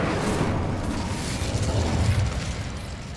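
A Bombarda spell blast in Hogwarts Legacy makes a loud, sustained rumbling boom with a roaring low burst that swells and slowly fades, heavy and close, with no talking.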